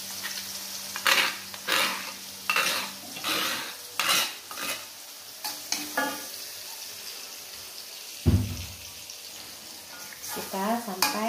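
Ground spice paste for pepes ayam frying and being stirred in a pan with a large batch of chicken, sizzling steadily while a utensil scrapes and clinks against the pan in repeated strokes.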